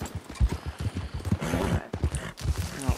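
Rhythmic horse hooves clop on the ground in the Red Dead Online video game, with a brief neigh partway through, steady and close with a trotting beat.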